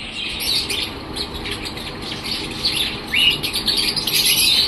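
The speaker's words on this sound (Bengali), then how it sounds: "আছে নানান রঙের ককটেলও।" Cockatiels, budgerigars and lovebirds in an aviary keep up a dense, continuous chorus of high chirps, tweets and squawks, busy and fairly loud throughout.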